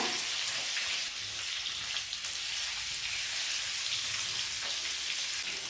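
Continuous hissing sizzle of chivni fish frying in oil on a tawa, steady and close throughout, no talk.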